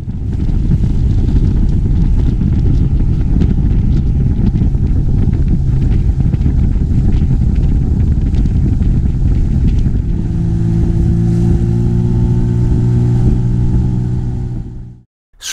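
A motorboat races at planing speed down the Kyles of Bute on the Clyde, its engine a loud, steady roar with wind buffeting throughout, the pitch shifting and settling into a lower drone near the end before cutting off abruptly.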